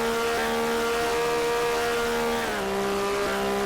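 Buick stock car engine in the NNSCRA Mello Yello racing video game, number 6 car, revving high and steady near 9,300 RPM, then pitch dropping on an upshift, loud and continuous with no talk.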